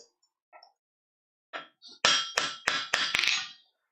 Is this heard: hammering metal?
yes